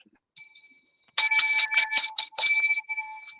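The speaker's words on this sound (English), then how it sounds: "7 lucky bells for the evil spirits" Small bells jingle in a quick cluster of bright, overlapping rings, loud and close, then ring out singly near the end.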